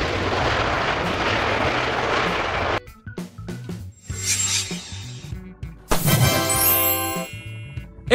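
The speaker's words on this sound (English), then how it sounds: "This is the Airbus A350-1000, launched in 2016 in Europe" An Airbus A350-1000 airliner, with a steady broad jet engine roar for a few seconds, then a break and uneven bursts of mechanical whine and rising tones.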